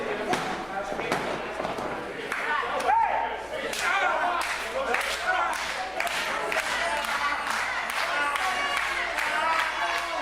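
Wrestling crowd at the Chop Shop in an independent RWA show, cheering and clapping for Zach Alexander, with sharp ring slams and thuds cutting through steady crowd noise and a commentator talking throughout.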